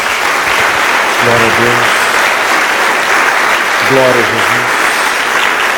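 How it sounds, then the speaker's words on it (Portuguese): Congregation applause during an evangelical church service, a steady wash of clapping filling the whole stretch while a preacher's voice speaks over it. "Dê uma salva de palmas ao Senhor."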